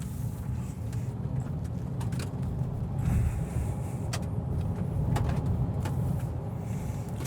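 A Peugeot E3008 electric car driven hard, giving a steady low road and tyre rumble from inside the cabin, with small knocks and rattles over the surface and no engine note.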